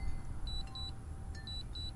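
Faint high-pitched electronic beeps from a DJI Phantom 3 Standard drone controller losing signal sound in quick pairs, repeating twice over a low background rumble.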